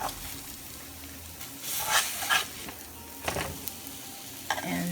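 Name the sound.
akankyie dough frying in a pan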